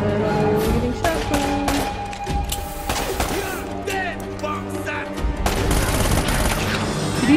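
Rapid bursts of gunfire and explosions from Uncharted Remastered on PS4 in the Customs House level, loud and nearly continuous with dense overlapping shots, with players talking over the action.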